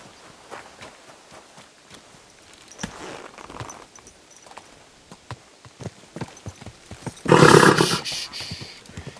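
Horse in the video game Kingdom Come Deliverance 2, with hooves clopping and steps shuffling at a steady pace, followed by a loud snorting blow or whinny near the end.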